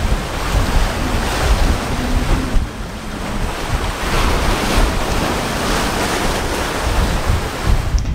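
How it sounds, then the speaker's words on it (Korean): Ocean surf and steady wind on the coast at Suwolbong geological trail on Jeju Island, a continuous roar of breaking waves with gusty wind buffeting the microphone, no voices. "가끔은 멍하니 파도를 응시합니다."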